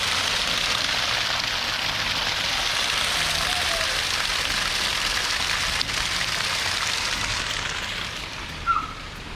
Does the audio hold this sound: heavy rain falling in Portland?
yes